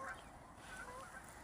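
Wild birds in a park in Dagenham, London, on a morning walk give faint, distant goose-like honking calls over a soft, steady outdoor background.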